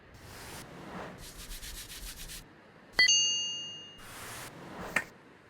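A brush scrubbing an old electronic device in bursts of rapid, rhythmic rubbing, broken by a sharp metallic clink and ringing tone and a later tap.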